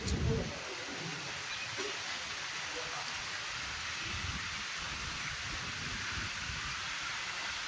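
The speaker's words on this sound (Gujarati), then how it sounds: "સવારથી આજે વરસાદ પડી રહ્યો છે" Steady rain falls in Surat during the monsoon, a dense, even hiss that continues throughout with a brief low thump at the start and no one speaking.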